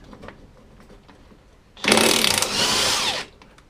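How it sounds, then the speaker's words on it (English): Power tool undoing 19mm wheel bearing bolts on a Lotus Elise S2 during a rear brake upgrade, a loud whirring burst of about a second and a half after quiet workshop clatter, cutting off abruptly. "Next job is to remove these bolts for the wheel bearing."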